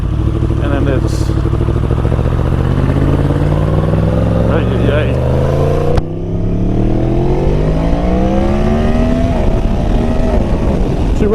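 An Aprilia 1100 Factory motorcycle engine runs loud and close, its deep rumble rising and falling in pitch as it revs and accelerates, with a rider's voice talking over it.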